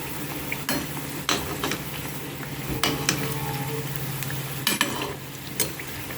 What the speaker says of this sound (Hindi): स्लो फ्लेम पे फ्राई करने से हमारे समोसे अच्छे क्रिस्पी फ्राई हो जाते हैं।